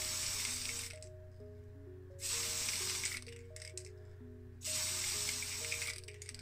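An aerosol can sprays primer onto a small die-cast Matchbox BMW 3.0 CSL model car in three short hissing bursts about two seconds apart, close and clear over quiet background music.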